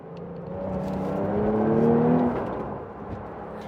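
A Porsche 911 Carrera T engine winds up through the gears, a moderate rising whir that swells and then eases off, heard from inside the car without talk.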